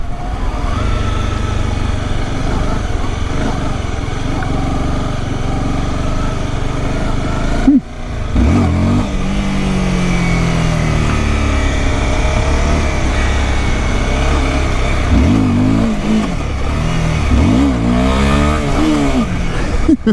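A Honda CBR250R motorcycle on a test ride holds a steady engine drone, then a brief pause before it accelerates hard through several rising revs and gear changes, loud and close.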